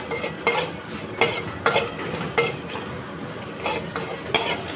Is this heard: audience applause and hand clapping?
no